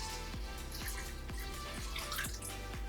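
Filtered water runs steadily into a pot with cinnamon and cloves, with a rhythmic series of soft knocks beneath the flowing, close and moderately quiet.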